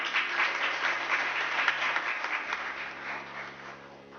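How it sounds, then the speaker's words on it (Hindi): Sustained applause from an audience at a Hindu religious gathering of saints, many hands clapping densely and steadily, loud and close, tapering slightly toward the end. "अगर निकल रही हैं तो ताली बजा करके समर्थन दीजिए।"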